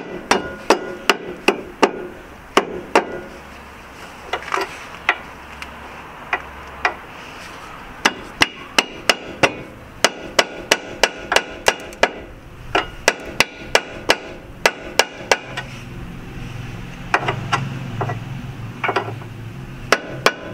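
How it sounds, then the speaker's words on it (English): Repeated metallic hammer blows strike hard and close on an Alfa Romeo MiTo control arm, some in quick clusters and others spaced apart, ringing over a low background hum. "I'm going to hammer it."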